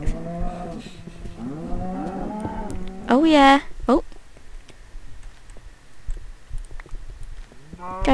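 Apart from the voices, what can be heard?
cows mooing in Minecraft video game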